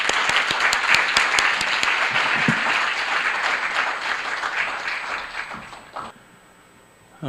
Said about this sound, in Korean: 크고 우레와 같은 박수로 환영해 주시면 감사하겠습니다